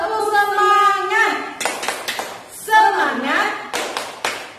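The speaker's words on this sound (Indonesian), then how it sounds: "Yuk, dalam hitungan ketiga kita tepuk semangat." A teacher leads a rhythmic 'tepuk semangat' clapping chant for kindergarten children, the voice singing and speaking between bursts of quick, patterned hand claps, close and fairly loud.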